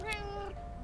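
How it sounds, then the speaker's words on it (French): A single short cat meow, clear and fairly close, rising and falling over less than a second against faint background noise. "il y a un chat qui se place sur la vidéo"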